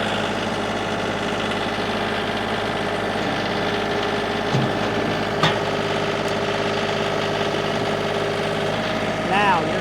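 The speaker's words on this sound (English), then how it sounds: "I'm going to fire him back up. I'm going to bump the throttle up here." A 2019 John Deere 2032R compact 32 hp tractor's engine idles with a steady close drone and mechanical knocking and rattling, its pitch rising slightly as the throttle is bumped up, with someone talking over it.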